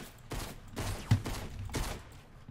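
Rapid bursts of gunfire from a Fortnite aim and building practice session, several loud volleys in quick succession with short gaps, heard alone without talk.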